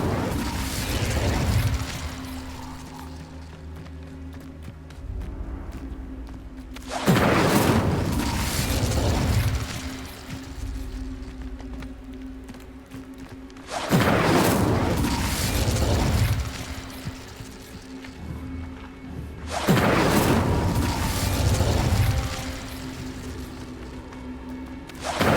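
Fiery spell blasts cast in Hogwarts Legacy, four loud bursts spaced roughly every six to seven seconds, each a broad whooshing boom that decays slowly over a steady low mechanical hum.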